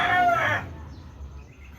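A pet rooster crows briefly and loudly at feeding time, a single strained call cut off after half a second, leaving quiet farmyard background.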